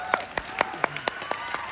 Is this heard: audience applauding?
yes